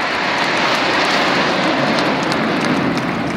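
Frecce Tricolori jet aircraft roaring past at a seaside airshow in Fano, a loud, steady, broadband engine rush that fills the whole moment with no voices.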